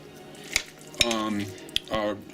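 Knife and fork chopping and mashing chunky homemade guacamole of avocado, garlic, sweet red peppers, jalapenos and serranos in a bowl, a few sharp clinks of metal on the dish among softer scraping and mashing, close and alone.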